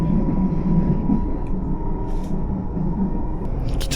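Steady low rumble of a commuter train riding from Frankfurt toward Eschborn South station, a continuous rolling drone close by with no speech.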